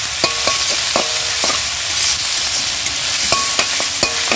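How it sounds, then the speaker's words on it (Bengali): Maggi noodles with vegetables sizzle steadily in hot oil in a pan, a constant frying hiss broken by sharp clinks of a spatula stirring against the metal. "ম্যাগি এই একটু ওই চাউমিনের মতো ভাজা করব"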